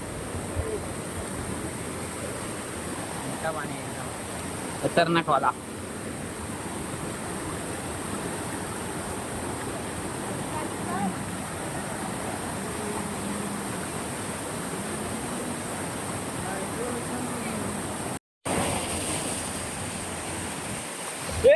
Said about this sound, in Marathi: मंडळी नू बघा धबधबो केवढं मोठं असा